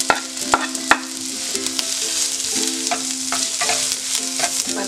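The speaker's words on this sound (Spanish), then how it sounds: "Le voy a poner un chorrito de aceite. Y le voy a poner la cebolla." Onion frying in a splash of oil in a pan over medium heat, a continuous close sizzle with sharp crackles and pops scattered throughout.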